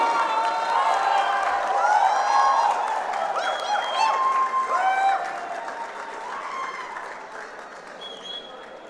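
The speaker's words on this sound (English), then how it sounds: "everyone please give a big round of applause to our global lead" Conference audience at WordCamp Nepal applauding their global lead, clapping mixed with cheering and overlapping crowd voices, loud at first and thinning toward the end.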